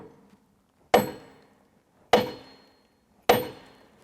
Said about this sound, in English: We'll hit it with the sledgehammer a couple times,